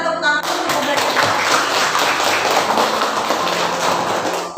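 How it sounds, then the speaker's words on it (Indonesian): A class applauding together, a dense, even wash of many hands clapping close by, sustained loudly for several seconds. "Kita tepuk tangan untuk pembelajaran."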